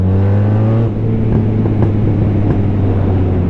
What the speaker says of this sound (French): Alors vraiment c'est une moto qui a un bruit unique